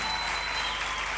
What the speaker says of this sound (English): So put your hands together for the cast.